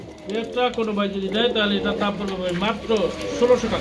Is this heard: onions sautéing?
no